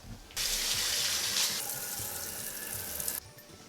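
Water runs steadily from a kitchen tap into a sink as boiled pigeon peas are drained, with a loud, continuous rush that starts abruptly, stays strong for about three seconds, then stops.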